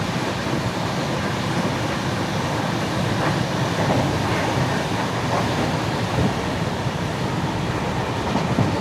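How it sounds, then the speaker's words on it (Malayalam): Rajarani Express rushing past at a crossing, a loud, steady broadband roar of rolling stock with faint rhythmic wheel clatter throughout, heard close from a moving train. "ക്രോസിങ് രാജറാണി എക്സ്പ്രസ് ആണ്"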